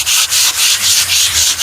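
Painters scrape a wall surface, producing rhythmic rasping strokes that repeat about every quarter second. The sound is loud and close, with no voices heard.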